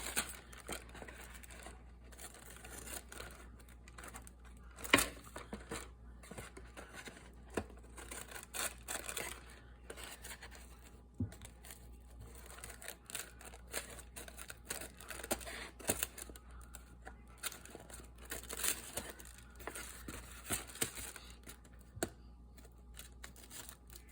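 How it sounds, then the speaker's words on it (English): Scissors trim excess paper off a steampunk journal page, giving a steady run of crisp snips, crinkles and small tearing sounds, close and quiet with no talk. "I'm going to cut off the excess."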